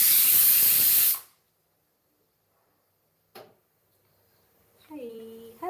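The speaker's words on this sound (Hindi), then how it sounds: "चलो मैं अपने वो कुकर को बंद कर दूँ" Loud hissing burst of steam from a kitchen pressure cooker being released for about a second, then cut off to near silence, followed by a brief clack and a voice speaking.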